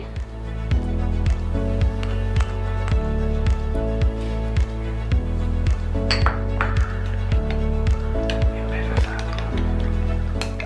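A spoon stirs a honey and lemon mixture in a glass, giving repeated bright clinks at a regular pace over a loud, steady tonal background.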